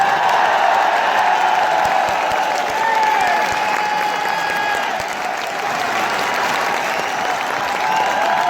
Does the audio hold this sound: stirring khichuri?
no